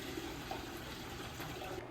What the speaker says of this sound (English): So the dirty water's been drained out of the tank.